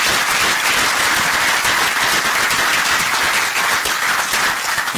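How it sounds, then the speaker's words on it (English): Audience applause for a contestant at a live-streamed judged event, a dense, steady wash of many hands clapping that fills the whole stretch at full strength with no voices. "a final round of applause for number 12"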